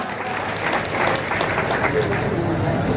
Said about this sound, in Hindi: ताली बजेबो कि नहीं?